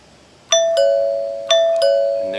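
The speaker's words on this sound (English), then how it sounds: "And there's your nice doorbell." A newly wired doorbell rings twice, each a clear two-tone ding-dong close by, with the chimes ringing out and decaying in an otherwise quiet room.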